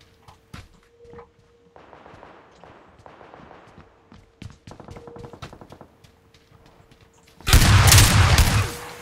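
Gunfire in a video game crackles in short scattered bursts and a rapid run of shots, then a loud, dense volley erupts near the end.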